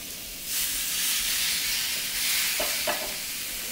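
Thin cuts of meat laid onto a hot grill pan sprayed with cooking spray, setting off a steady, close, bright sizzle and hiss that swells after a brief quiet start.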